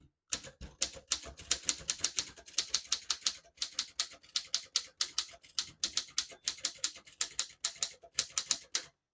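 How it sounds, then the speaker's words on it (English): Typing on a 1933 Corona 4 vintage portable typewriter: a brisk, uneven run of sharp metallic key strikes in bursts with brief pauses, close and clear, with no voices. "I'll type a sentence on the next line."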